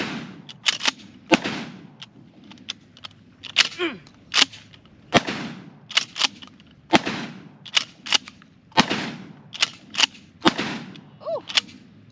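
Mossberg 590S Shockwave shotgun fired repeatedly at an outdoor range, around nine sharp, close blasts in an uneven rhythm, with metallic pump racking and handling clicks between shots and no voices.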